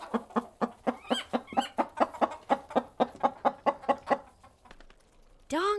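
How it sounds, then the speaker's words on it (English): A chicken clucks in a quick rhythmic series of about fifteen close, clear clucks, then a short pause before a rising squawk at the end. "Chicken, chicken, cluck, cluck. These are chickens."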